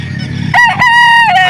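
Rooster crowing at a gamefowl market, one loud close cock-a-doodle-doo rising over low crowd murmur and faint clucking.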